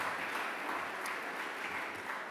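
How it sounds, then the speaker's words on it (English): An audience claps steadily at a school music day session, a dense, even wash of applause from a large room that holds for the whole moment. "Can you give a big round of applause to Sarah Patterson?"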